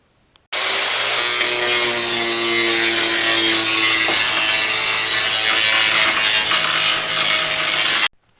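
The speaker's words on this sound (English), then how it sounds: "I think I'll use the high-speed angle grinder." A high-speed angle grinder cleans up welds on a rusted car rocker panel, a loud continuous whining grind that starts abruptly and runs steadily for about seven and a half seconds, close up with no voices.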